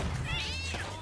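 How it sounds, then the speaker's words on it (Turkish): A cat in the Sea of Thieves pirate video game lets out a loud, drawn-out meow with a rising and falling pitch, sounding close and clear over a low steady background hum. "Kedi nasıl bağırıyor değil mi?"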